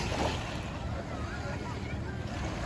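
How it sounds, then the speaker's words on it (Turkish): A crowded tour boat draws up to a Turkish seashore on a summer day, its low engine rumble blending with wind buffeting the microphone and lapping waves in a continuous wash. "Bir tur teknemiz daha yanaşıyor."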